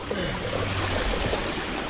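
Shallow stream flowing outdoors, a steady close rushing and trickling wash that stays even throughout, with no voices.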